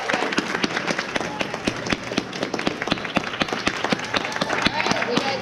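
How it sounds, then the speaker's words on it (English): Audience applause fills a school board listening session: dense, steady clapping from a crowd, fairly close and loud throughout, with scattered sharper claps and a murmur of voices underneath. "Thank you for the applause."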